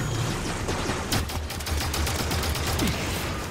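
Rifle fire in the video game Halo 5 Guardians: rapid bursts of loud gunshots layered over dense battle noise and a low rumble, continuous for a few seconds.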